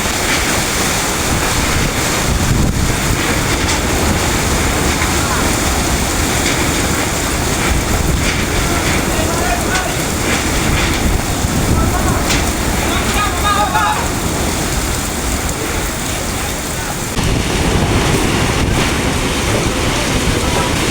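Powerful typhoon wind roars continuously against the microphone in Sariaya, Quezon, a heavy, buffeting rumble with rushing gusts and faint voices buried underneath, as roofing sheets are torn loose.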